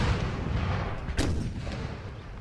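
Cannon artillery fire in the video game Imperial Splendour, a dense, continuous roar of booming shots with one sharper blast near the middle, loud and without speech.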